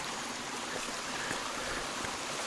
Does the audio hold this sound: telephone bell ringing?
no